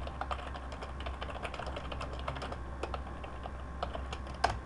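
Steady typing on a computer keyboard during a Google+ Hangout, a continuous run of quick, fairly faint key clicks over low background hum, with no talking.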